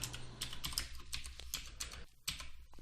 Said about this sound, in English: If I start typing I was here